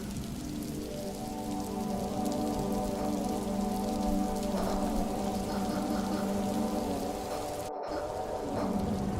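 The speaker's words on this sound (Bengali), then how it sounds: "আকাশ মেঘাচ্ছন্ন হয়ে আছে, গুড়ি গুড়ি বৃষ্টিও পড়ছে।" Light drizzle falling under an overcast sky near a river crossing, a soft continuous patter at low level with a faint steady hum beneath, no talking.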